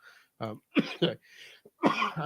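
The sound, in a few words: cough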